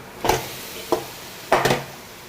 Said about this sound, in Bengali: কারি পাতা দিয়ে একটু নেড়ে চেড়ে ভাতটা দিয়ে দিচ্ছি।